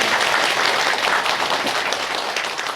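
Audience applause at a local county gathering with invited press, a steady broadband wash of clapping holding loud and even throughout with no speech over it.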